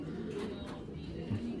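A pair of Giribaz pigeons coos softly at close range, low throaty murmurs repeating over a faint background hum.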